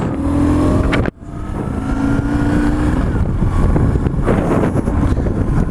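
A BMW R1150GS motorcycle pulls away after a brief cutout, its engine settling into a steady, close droning hum mixed with rushing wind noise.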